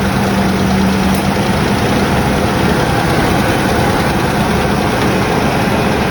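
A 1993 Ford Ranger engine idles steadily with a freshly installed AC compressor, producing a constant loud low rumble with no squeal and no talking.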